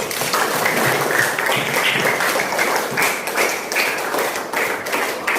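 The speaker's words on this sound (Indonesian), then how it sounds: "Tepuk tangan dulu dong." Classroom audience applause during a lesson on coding and artificial intelligence, dense and fairly loud clapping with slight swells that continues steadily for several seconds.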